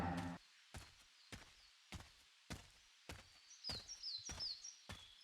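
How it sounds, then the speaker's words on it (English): A small bird chirps a quick run of high, faint tweets in the video game Path of Zen, with steady soft thuds like footsteps repeating about every half second. "Oh, that bird just chirped at me."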